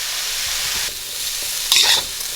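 Thinly sliced red pepper and carrots for japchae sizzle loudly in a hot pan, with close stirring and a brief louder burst of frying near the end.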